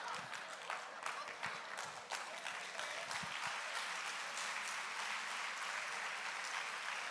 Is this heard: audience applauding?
yes